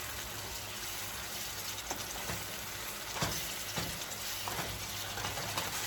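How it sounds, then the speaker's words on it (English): Ranchero salsa for huevos rancheros being stirred in a bowl, a steady wet sloshing mix with occasional soft clinks and scrapes, close and moderately quiet. "We mix it real good."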